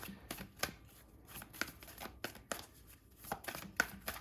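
Large tarot cards are shuffled by hand in a series of quiet, separate snaps and riffles, irregularly spaced, close and fairly faint with no talk.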